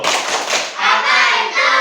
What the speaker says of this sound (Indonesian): Tepuk semangat atau tepuk bakso? Tepuk bakso.